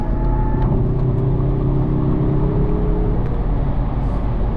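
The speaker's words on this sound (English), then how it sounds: "You will just push the pedal down and this turbo just gets you going in a hurry." A 2024 Mazda3 Turbo accelerating on the highway, with a loud, steady engine drone and rising turbo whine under constant road and wind rumble, heard from inside the car.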